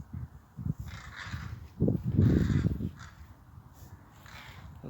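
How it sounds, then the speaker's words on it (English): Crows cawing harshly outdoors while mobbing a buzzard, a few loud rough calls in bursts over a quiet open-air background, the strongest cluster in the middle. "Looks like a buzzard they're attacking."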